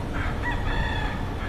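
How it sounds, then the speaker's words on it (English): A rooster crows loudly and close, a single sustained call filling the moment during a live news broadcast. "Yo, is that a rooster?"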